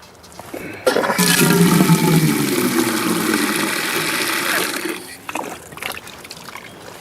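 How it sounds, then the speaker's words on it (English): Water runs steadily into a steel pot for about four seconds, a bright rushing pour that stops abruptly, followed by faint clinks and handling. "Put you about 1 inch of water in the bottom of it."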